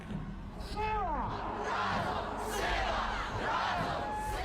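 Crowd at a protest raising a loud, sustained collective chant with rising voices, continuous throughout and dense with many people.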